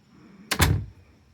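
A house door in a home with tiled rooms swings and shuts with a quick double thunk, close and fairly loud, then quiet room tone.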